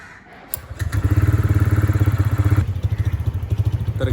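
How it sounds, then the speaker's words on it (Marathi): A delivery rider's motorcycle fires up from cold with a quick starter whir, then settles into a loud, close, evenly thumping idle. No voices. "तर गाईस, बाईक स्टार्ट केली आहे मी, कोल्ड स्टार्ट."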